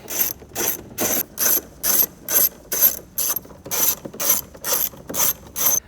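Ratchet on a 6-inch extension turning out 10mm stainless steel radio bolts in a 2016-2019 Toyota Tacoma dash: a steady, loud series of about a dozen close, evenly spaced clicking strokes, with no voices.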